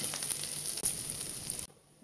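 Garlic and onion sizzle loudly in a pan for a Bengali vorta mash. The steady frying hiss cuts off briefly near the end and then resumes, with no talk.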